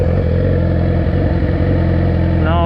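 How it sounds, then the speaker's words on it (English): A motorcycle creeping forward on its own with the clutch released and no throttle, giving a loud, steady low engine rumble close by and a brief rise in pitch near the end. "I'm off the clutch right now, and the bike will move off by itself."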